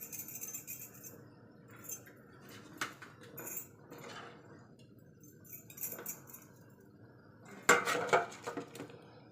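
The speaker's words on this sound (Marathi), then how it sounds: "आता आपण रश्यातनं मासे काढून घेणार आहेत." Metal utensil clinks and scrapes against a pot as fish pieces are lifted out of a boiling village-style spicy fish curry, with intermittent clatter and a louder burst of clinking near the end.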